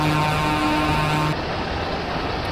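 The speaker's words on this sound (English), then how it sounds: "Oh, let's check the horn." A Peterbilt 359 truck mod in American Truck Simulator sounds its horn, a loud sustained two-tone blast lasting over a second, then cutting off into steady engine rumble.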